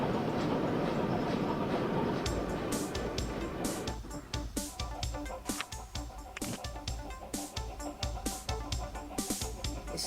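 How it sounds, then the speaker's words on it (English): Train rolling along in the railway simulation game Chris Sawyer's Locomotion, with a steady dense rumble that turns into a rhythmic run of clicks and clanks from about four seconds on, close and continuous. "This is the longest train here."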